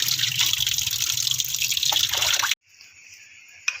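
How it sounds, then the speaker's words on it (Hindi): Salted fish is rinsed under running water in a kitchen, a steady close splashing gush that suddenly stops, leaving a quieter faint hiss and a final small clink. "1 घंटा नमक लगाने के बाद अब हम इसको अच्छे से धो रहे हैं।"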